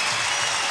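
A home crowd applauds a bronze medal win at a compound men's archery final in Nîmes: a dense, steady wash of clapping, loud and close, heard only for a brief moment.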